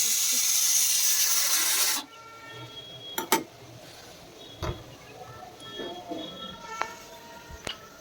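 A pressure cooker cooking rice lets out a loud, steady steam hiss that cuts off abruptly after two seconds, followed by scattered clinks of kitchen utensils.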